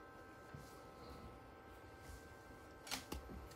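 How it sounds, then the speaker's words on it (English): Shutter of an old Canon T3 DSLR firing, a soft mechanical click pair near the end amid faint room noise, with a couple of lighter clicks earlier. "You hear the shutter turn on."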